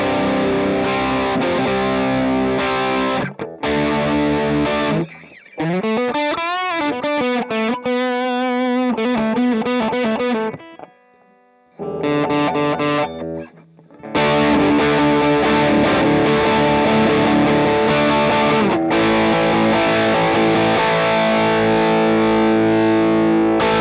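Electric guitar cranked through a Friedman MiniBE amp head at high volume, heavily distorted chords and single-note runs with bends, brief pauses between phrases, loud and close with no talking.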